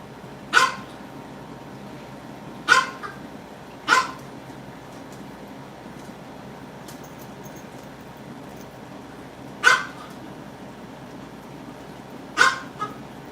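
Several sharp, separate dog barks ring out at irregular intervals against a quiet indoor background, each bark short and fairly close.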